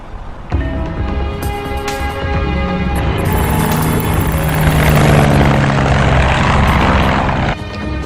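A propeller cargo airplane flies in a movie scene, its loud droning engine and airscrew roar holding steady for several seconds with layered whining tones, the sound swelling as it passes and cutting down near the end.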